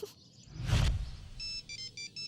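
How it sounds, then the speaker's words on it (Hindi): A mobile phone ringtone in a South Indian film plays a short, repeating electronic melody in bursts, following a brief louder rustle. "इतनी जल्दी फोन शुरू भी हो गया इसका"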